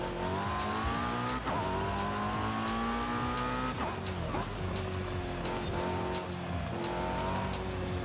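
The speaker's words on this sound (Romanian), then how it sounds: "A, se frâna brusc aici." A car in the Forza Horizon 5 racing game brakes hard, its tires squealing over a loud, steady engine roar that runs through the whole stretch.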